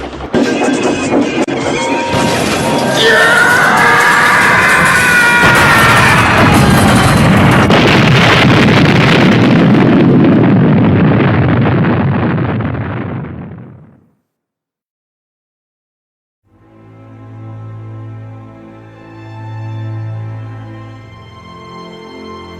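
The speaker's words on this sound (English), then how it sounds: "The train had crashed through the blockade and had fallen into the ravine below" A train crashes through a blockade into a ravine, a massive, sustained crash with rumbling impact and rushing noise lasting several seconds, then abrupt silence followed by a faint low drone.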